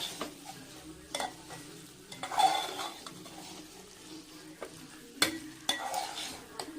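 Potato and capsicum masala gets stirred and fried in a pan, a soft sizzle under intermittent scraping and clinks of the spatula against the metal, several sharper knocks scattered throughout.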